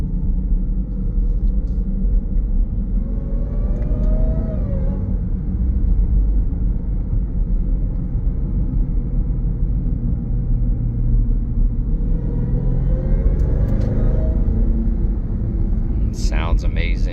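Engine and exhaust of a 2020 Jeep Grand Cherokee Trackhawk under acceleration, a deep continuous rumble heard from inside the cabin that rises and drops at gear shifts, with a voice speaking over it at moments.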